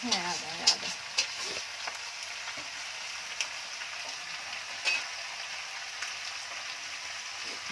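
Ginger sizzling and frying in a pan while a chicken curry is cooked, a steady soft crackle with occasional louder pops and stirring clinks, fairly faint throughout.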